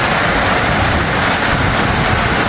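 A steady broadband roar of wind and rushing water sounds close and loud near a waterfall on a rainy, cold day, unbroken for the whole stretch.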